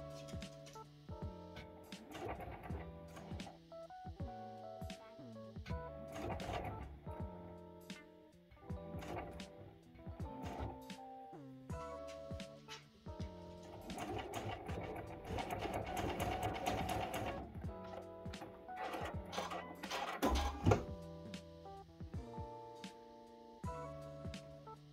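A sewing machine stitches improv curved four-patch quilt pieces in short bursts, its motor whirring and needle chattering with brief pauses between runs, close and steady.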